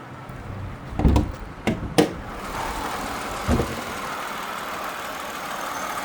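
A 1999 Buick Regal GSE with its 3800 engine idles at a low, steady hum, broken by a few sharp knocks or clunks early on before settling into an even, quiet drone.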